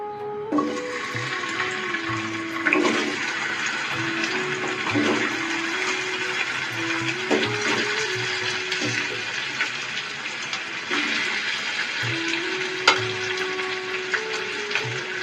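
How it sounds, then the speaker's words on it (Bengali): Potatoes frying in hot mustard oil, a constant bright sizzle with intermittent spatula clinks and scrapes against the pan, steady and close. "সর্ষের তেলটা আমাদের গরম হয়ে গেছে, এবার আমি আলুগুলো এর মধ্যে দিয়ে দেব।"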